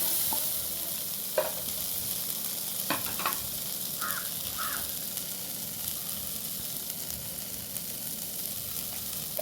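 Chickpeas being stirred into a curry in a pan, a steady sizzle with a few sharp scraping strokes and a faint crow-like call in the background.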